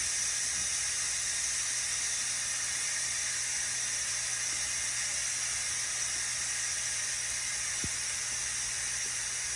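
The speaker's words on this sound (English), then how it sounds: "So that's just going to let all of the steam escape" Steam vents from an Instant Pot pressure cooker during release after cooking hamburger macaroni, a steady, loud, continuous hiss that stays constant throughout with no pauses or voices.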